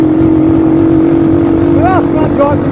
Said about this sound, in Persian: صدای اگزوز زیاده و بادم میخوره